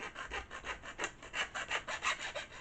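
Repeated rasping strokes of a blade trimming excess plastic from a homemade RC car body, a steady back-and-forth rhythm of about a dozen close, scratchy cuts with no talking.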